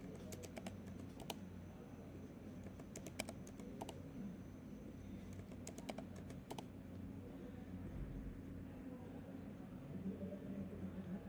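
Quiet clicks of a computer keyboard as a username and password are typed, in short clustered bursts over a low background hum, with faint speech at times.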